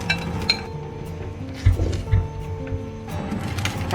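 A utensil knocks and clinks against a metal pot while raw rice is stirred into boiling bean soup with luncheon meat, giving a few dull thuds and scraping sounds over a steady background.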